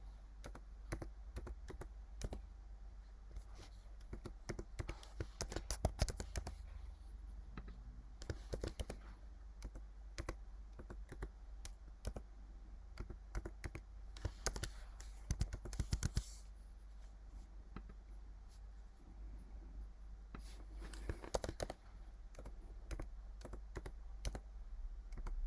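Rapid bursts of keystrokes on a computer keyboard while a password is entered during Azure virtual machine setup, fairly close and steady with short pauses, no talking.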